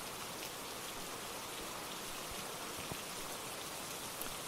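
Rain in a video game played on an HP Reverb G2 VR headset, a dense, even hiss of falling drops with occasional sharper individual hits, steady and fairly loud throughout without speech.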